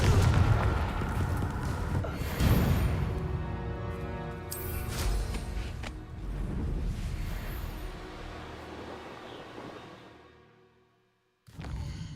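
Confringo fire spell blasting in Hogwarts Legacy: a loud booming explosion with rumbling crackle that rolls on for several seconds, then fades to near silence before a final burst of noise.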